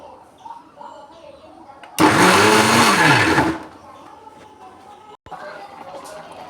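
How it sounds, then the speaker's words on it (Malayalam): An electric mixer grinder whirs loudly for about a second and a half as it grinds shallot, garlic and cumin for Kerala avial, starting and stopping abruptly between stretches of a woman's speech. "ഇത്രയും കൂടി നമ്മൾ ഇതൊന്ന് അരച്ചെടുക്കട്ടെ"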